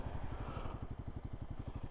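A Royal Enfield Guerrilla 450 motorcycle idles on its stand after a ride, giving a steady, close, rhythmic thumping beat that holds evenly throughout.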